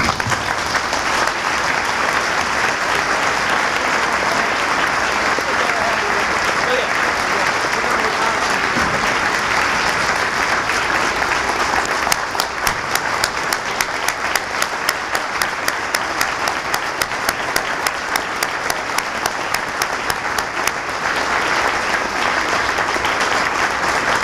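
Sustained audience applause at an awards banquet, a dense room-filling wash of many hands clapping steadily and loudly throughout, with a sharper, more rhythmic stretch of clapping near the middle and no voices standing out.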